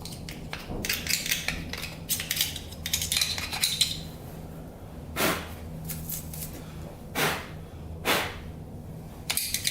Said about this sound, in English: We'll try to scrape that off with a screwdriver.